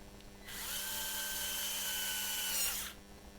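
A power screwdriver turns screws on a Losi Promoto RC motorcycle, giving off a steady high whir that lasts about two and a half seconds, close by, and then cuts off.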